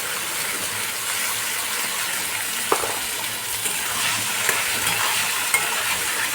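Poppy seed paste frying lightly in a pan with softened tomatoes over a lowered gas flame, a gentle, steady sizzle with a few light stirring knocks, and no one talking.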